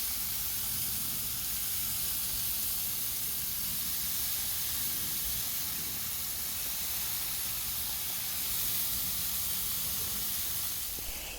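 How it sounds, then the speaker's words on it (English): Chicken souvlaki skewers cooking on a grill give off a steady, continuous hissing sizzle that holds even and close for the whole stretch, with no talking. "putting the skewers on the grill and turning them once or twice"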